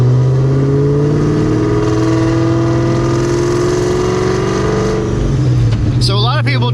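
A Terminator Cobra with a raspy Borla Atak exhaust pulls uphill, its loud, close engine drone rising steadily in pitch with a gravelly rasp before easing off near the end.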